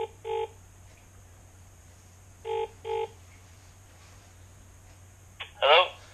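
A telephone rings in short paired bursts with quiet gaps between them, fairly close and clear. A brief voice-like sound comes in near the end.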